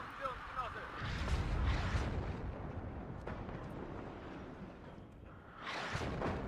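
Artillery fire in the real-time strategy game Warno: a steady, rumbling barrage of heavy booms and blasts, loud and continuous, with a burst of noise near the end.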